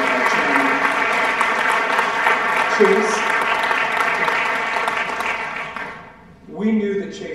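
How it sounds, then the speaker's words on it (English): Applause for a board of trustees at a school parent meeting, a continuous dense clapping wash under a steady tonal hum, fading near the end as a voice begins speaking. "I'd like to just give our whole board of trustees a big round of applause"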